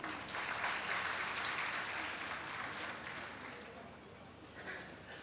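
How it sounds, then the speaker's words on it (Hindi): A crowd at an Indo-Pak mushaira poetry gathering in Ambala bursts into hearty applause, a dense continuous wash of clapping that tapers slightly toward the end with no voices over it. "तो एक बार ज़ोरदार तालियां इसी बात पर"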